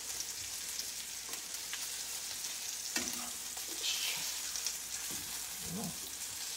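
Veal saltimbocca wrapped in prosciutto fries in a pan, giving a steady soft sizzle with occasional sharper crackles and light utensil clinks, close up and without talk.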